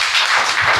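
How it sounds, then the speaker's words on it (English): A live audience applauds a panel at a chamber of commerce vocational-technical forum, with dense, steady clapping filling the whole short stretch at close range and no voices over it. "thank you very much for a round of applause"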